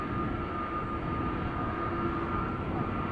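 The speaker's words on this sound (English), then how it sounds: "Triplet of airplanes coming this way." Airliners departing Amsterdam Schiphol Airport give a steady, low jet-engine roar that is fairly faint and held at a constant level throughout the short stretch, with no talking.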